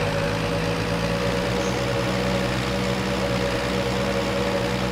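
A video-game tractor engine drones steadily and loudly, a constant low mechanical hum with a faint whine, running without pause or voices.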